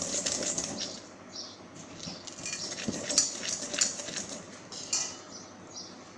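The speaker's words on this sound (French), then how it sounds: "fouettez le sucre avec les jaunes d'œufs que ça mélange" Sugar whisked with egg yolks in a bowl makes rapid, uneven metallic clicks and soft rhythmic swishes close by, coming in bursts with short pauses and no talking.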